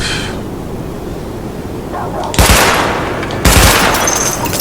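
Gunfire from a weapon test in the video game The Division, fired at highlighted targets: two loud, close bursts about a second apart over a steady background hum.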